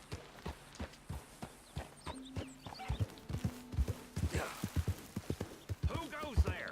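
A horse in the video game Red Dead Redemption clip-clops along in a steady rhythmic gait with a short whinny, moderately close, while someone talks over it.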